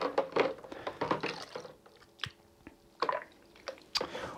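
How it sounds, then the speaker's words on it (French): A retractable plastic straw is pushed onto a Nukatap counter-pressure bottle filler, giving soft squishy clicks and small plastic snaps at close range, spaced irregularly with quiet gaps between. "Donc on branche la paille, on va la rétracter après."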